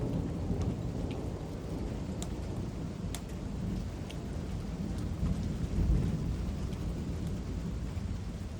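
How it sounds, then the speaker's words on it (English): Heavy rain pours steadily through a stationary thunderstorm with gusty northeast wind, large drops drumming on surfaces while low thunder rumbles continuously underneath, a dense close wash of sound with no voices. "I hear huge raindrops."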